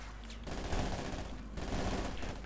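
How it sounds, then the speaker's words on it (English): Sustained small-arms fire from Partisans in Company of Heroes 2, a dense, continuous crackle of rapid gunshots rolling in two bursts with a brief dip between them. "the Jaegers quickly find themselves being mercilessly gunned down here by the Partisans as they're being riddled there with bullets"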